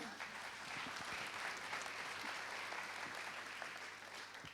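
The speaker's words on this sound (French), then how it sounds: "Je vous propose qu'on vous applaudisse encore" Guests at an evening awards ceremony give a sustained round of applause, many hands clapping steadily at moderate distance with a faint background hum, the clapping even and unbroken from start to finish.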